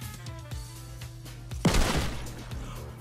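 Gunfire in the video game Fortnite, inside an escape-room creative map, a single sharp loud shot cracking out over a low steady background hum.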